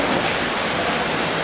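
Water rushes through a check valve at about 3 feet per second, 2,400 gallons per minute, in a flow test. It makes a loud, steady, broadband hiss and roar without pauses.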